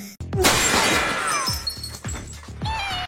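A sniper's bullet ricochets off glass: a sharp crack followed by shattering glass, with smaller tinkling impacts and crashes repeating over the next few seconds, loud and close.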